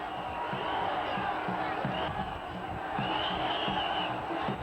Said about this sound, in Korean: 사람들이 외치는 함성 소리가 하늘에 닿아